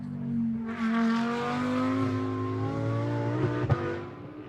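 A GT2 race car passes on track during European Series qualifying, its engine a loud rising drone with strong harmonics that swells, holds, then drops as it goes by, with no commentary over it.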